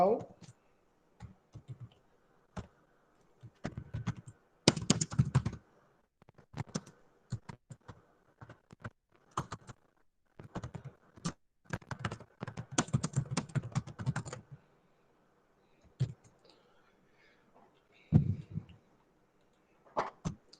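Typing on a computer keyboard while writing code for a programming logic lesson, with irregular bursts of close key clicks and short pauses, some dense flurries of rapid keystrokes, and no talk over it.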